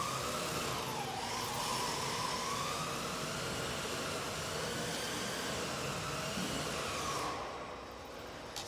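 A Traxxas 4Tec 2.0 RC car with a brushless motor on a 2S LiPo laps a track in training mode, its motor whining continuously at mid distance and rising and falling in pitch before fading toward the end.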